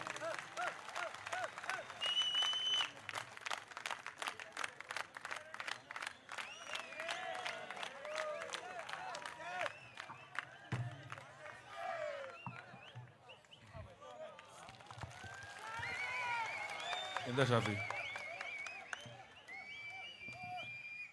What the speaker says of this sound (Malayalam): അദ്ദേഹത്തെ ആദരപൂർവ്വം നിറഞ്ഞ കയ്യടികളോടെ സ്വാഗതം ചെയ്യുന്നു